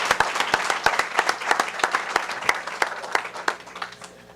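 An audience at a Democratic candidates' meeting applauds the candidates, a close, loud burst of individual sharp claps layered over a crowd's clapping, steady and then thinning slightly toward the end.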